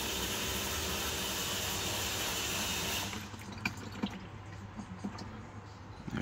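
Transmission fluid drains from the UA80F eight-speed automatic transmission of a Toyota Kluger as the plug comes out, a steady close-up liquid rush for about three seconds that gives way to quieter dribbles and drips.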